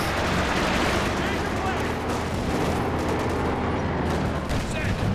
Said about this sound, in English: Tank gun.